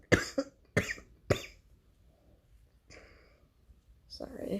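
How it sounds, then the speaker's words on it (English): Three sharp, close coughs come in quick succession, followed by quieter throat noises and a brief voice near the end. "Sorry for my coughing again."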